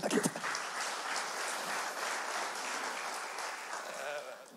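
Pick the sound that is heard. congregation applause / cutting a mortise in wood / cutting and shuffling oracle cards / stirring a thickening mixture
congregation applause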